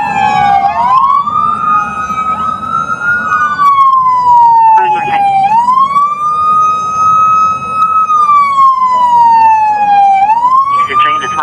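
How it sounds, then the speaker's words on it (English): A police car siren wails loud and close in a steady rising and falling sweep, repeating several cycles over a low vehicle rumble during a high-speed chase. "Shut off the siren!"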